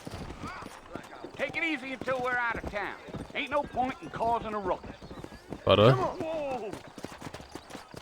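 Horse hooves clip-clop in Red Dead Redemption as a rhythmic, fairly faint beat under almost continuous talking by a man.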